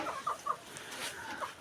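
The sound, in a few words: chickens clucking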